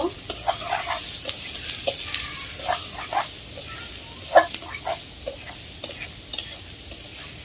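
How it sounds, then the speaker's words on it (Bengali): Onions frying in a pan with a steady sizzle, broken by irregular scraping clicks of stirring; close and fairly quiet, no talking. "পেঁয়াজটা ভেজে নেব"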